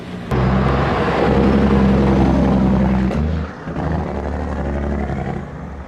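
An airplane lands at Sangster International Airport in Montego Bay: a loud, close, sustained engine roar that dips briefly and then continues, heard alone.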